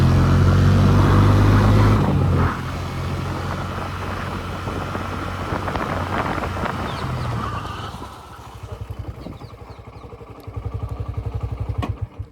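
A Honda Hornet 125 motorcycle in a braking test on a road: a loud engine roar that cuts down sharply, then a lower rumbling idle and revving, close by with no talk.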